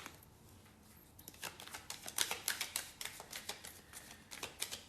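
Tarot cards handled and shuffled, a run of quick crisp riffling flicks and taps starting after a quiet second, close but soft, with no talking.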